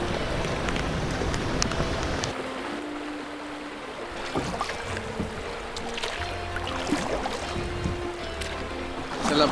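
A whitewater rafting boat pushes through river rapids in Vietnam, rushing water and splashing churning continuously, with scattered thumps and a few faint shouts in the background.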